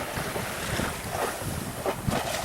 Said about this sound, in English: We are sailing from Shroud Cay to Wardwick Wells Key in the Exumas, Bahamas.